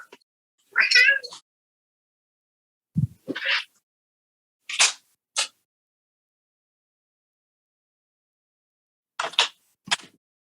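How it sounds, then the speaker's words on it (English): A house cat meows in several short separate calls spaced by silences, some higher and drawn out, others brief and clipped, close and fairly loud with no talking. "I had to kick the cat out of the room"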